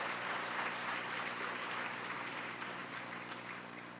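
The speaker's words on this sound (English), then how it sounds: "So they need a very big round of applause" Sustained applause from an audience at a welcome ceremony for new entrants, a steady dense patter of many hands clapping, fairly distant and gradually easing off toward the end.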